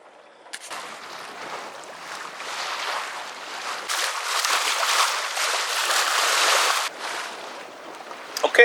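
A sailboat moves through the water near Georgetown with a steady rush of hull wash and spray. The sound swells louder midway and stays fairly close, with no talk over it.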